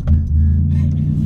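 Loud exhaust of a 2002 Pontiac Grand Prix GTP with an open downpipe, a deep close rumbling drone holding steady for a moment, with no talk.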